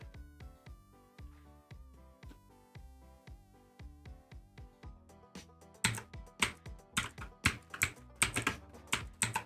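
Computer keyboard keys are tapped in an irregular rhythm over soft game music, with faint clicks at first and then louder, denser clusters of presses toward the end.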